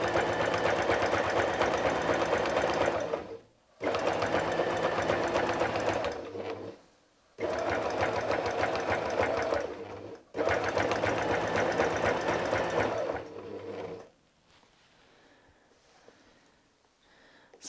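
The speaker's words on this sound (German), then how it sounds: "Drehen das Ganze und nähen nun weiter an unserer Flosse entlang." A sewing machine stitches along the fin of a lionfish appliqué on a quilt, running in four close, steady bursts separated by brief pauses before falling quiet.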